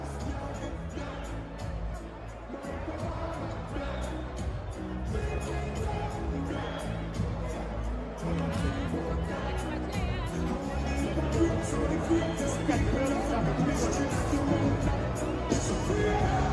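Boxing arena crowd at a WBF African title fight fills the space with a steady roar of cheering, chatter and occasional whoops between rounds, a dense continuous hubbub that swells slightly toward the end.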